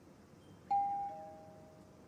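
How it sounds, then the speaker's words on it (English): A single doorbell chime rings out clearly against quiet room tone, a bright electronic tone that sustains and slowly fades. "I was woken up by another doorbell."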